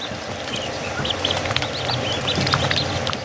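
Young ducklings calling with soft, high peeping chirps in quick irregular bursts, close and fairly loud over a steady background hiss.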